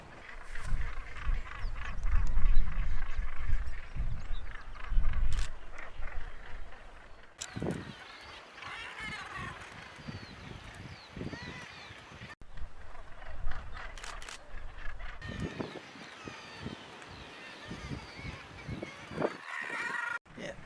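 Seabirds at Bempton Cliffs call in a dense, noisy chorus of harsh squawks and honking cries, close and loud, with bursts of wind buffeting and rustling throughout.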